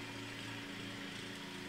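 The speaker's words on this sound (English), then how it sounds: "Someone's mowing outside." A lawn mower runs outside, a steady, continuous engine drone at moderate distance with no talk over it.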